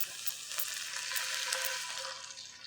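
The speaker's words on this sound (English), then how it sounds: "But a whole cup, carefully, in this pan, it's hot and there's fat." Homemade chicken stock poured into a hot pan with fat, a steady bright crackling sizzle with scattered pops and splatters, sustained and close for a few seconds with no voices.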